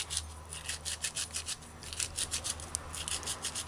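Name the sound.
grinding rosemary herbs fine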